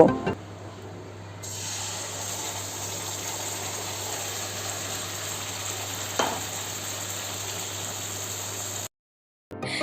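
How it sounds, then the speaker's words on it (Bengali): Chicken marinade sizzles in hot butter in a kadai, a continuous close frying hiss with a sharp start, holding steady before cutting off briefly near the end. "বাটার গরম হয়ে গেলে ম্যারিনেশনের মিশ্রণটা এতে দিয়ে দেব।"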